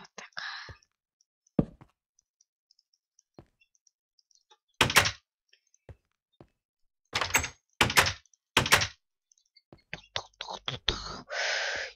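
Wooden doors in Minecraft being placed and opened during creative-mode play, a scattering of short blocky thunks and clacks spread across the stretch with quiet gaps between them, ending in a denser cluster of knocks and a brief hiss.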